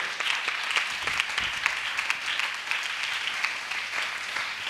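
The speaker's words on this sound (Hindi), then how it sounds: "ताली बजा के खुदा के महिमा करे" A church congregation claps together to glorify God during a Sunday service, a steady, dense wash of applause that holds evenly throughout at moderate loudness, with no talking over it.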